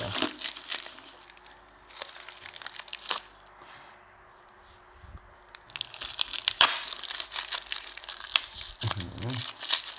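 A well-packed Phaya Tao Ruean amulet package from Luang Pu Liu is unwrapped up close: bursts of crinkling and crunching plastic and paper, broken by short pauses.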